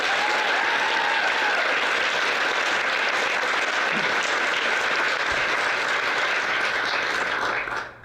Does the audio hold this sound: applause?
yes